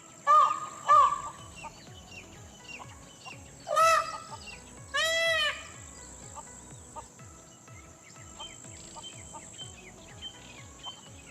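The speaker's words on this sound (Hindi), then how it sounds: "मोरों का एक झुंड पास में खाने की तलाश कर रहा है।" A flock of peafowl foraging in the Aravali Range of Rajasthan lets out several loud, nasal, harmonic calls in separate bursts over a steady chirping insect chorus, with quieter stretches between.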